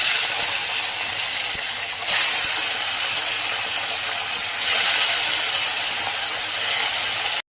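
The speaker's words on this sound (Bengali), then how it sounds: "এখন বড় মাছগুলো ভেজে নেব আমি, বড় মাছগুলো।" Large fish sizzle in hot oil in a pan, a steady loud hiss that surges sharply twice, as if the pieces were just added or turned, with no talking.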